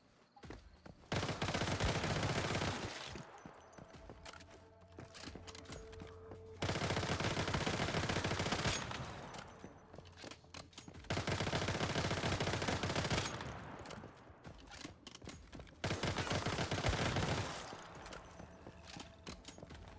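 Repeated bursts of rapid gunfire in the shooter game Once Human, four loud sustained volleys lasting two to three seconds each, separated by short quieter gaps with faint footsteps.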